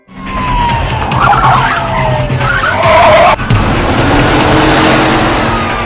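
A white van races in a car chase, its tires screeching loudly through several long skids over a roaring engine, then a sudden cut to a steadier rushing drive.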